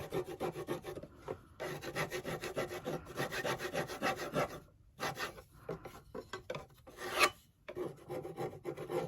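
Scraping residue off a wetted surface by hand, a steady rasping, filing-like scrape in repeated strokes with brief pauses, close and fairly loud with no talk.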